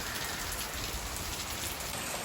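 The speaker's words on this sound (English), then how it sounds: "And it's not even raining, like, hard. That's just a normal rain" Light, steady rain falls outside a house, a soft continuous hiss of drops pattering on surfaces, close and even for the whole stretch, with no talking.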